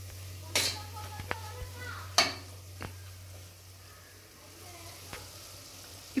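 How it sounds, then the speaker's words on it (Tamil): Tomatoes frying in a pan with chili powder and coriander powder, a soft sizzle under a low steady hum, broken by a few sharp clinks of a utensil against the pot. "இப்போ தக்காளியும் ஃப்ரை ஆகிடுச்சு"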